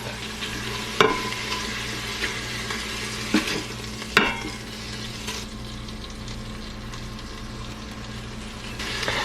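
Rice frying in butter in an Instant Pot, stirred so it sizzles steadily with a few sharp scraping clacks of the spoon against the pot.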